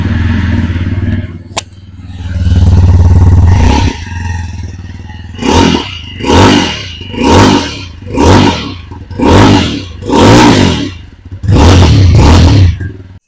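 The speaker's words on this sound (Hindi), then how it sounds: "तो अभी गाइस जस्ट आपने इस गाड़ी का एग्जॉस्ट साउंड को सुना" TVS Apache RTR 160 4V motorcycle self-starts and idles with a steady low exhaust thrum, then is revved in about seven sharp, evenly spaced blips that rise and fall, close and loud, with no talking.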